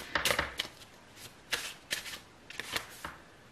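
Tarot cards being shuffled by hand during a reading, a run of soft riffling bursts and slaps close by, fairly quiet, with no talking over them.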